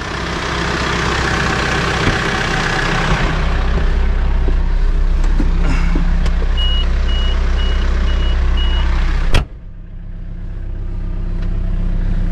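A tractor idles and moves back and forth while hitched, ready to cut drainage ditches in an asparagus field. Its steady, loud engine rumble runs throughout, with a series of reversing beeps partway through and a brief knock near the end.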